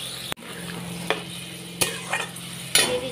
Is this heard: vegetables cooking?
yes